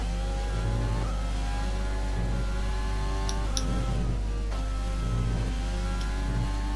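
An F1 race car from the F1 2020 video game accelerates with a steady, high-pitched engine whine. Gear changes and revs rise and fall over a constant low drone, alone with no talk.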